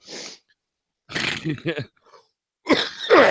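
A few separate harsh coughs come in short bursts with silent gaps between them, close to the microphone.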